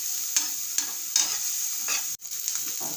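Onion, ginger and garlic sizzle and fry in ghee in a pan for a Rajasthani gatte dish, with a steady close crackle and several scraping stirs of a spoon, and no voices.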